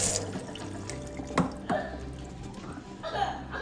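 Tap water runs over fresh ginger root being rinsed at a kitchen sink, a steady splashing stream close by with a few brief clatters.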